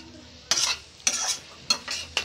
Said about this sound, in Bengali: গুঁড়ো হলুদটা দিয়ে আবার ভালোভাবে একটু আলুগুলোকে কষিয়ে নিচ্ছি।